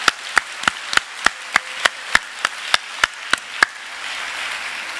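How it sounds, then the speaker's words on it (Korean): Evenly spaced loud claps, about a dozen in slow rhythm, ring out in a church congregation honoring volunteer teachers, then fade into a softer diffuse wash of clapping. "우리 큰 박수로 한번 격려해 주십시다."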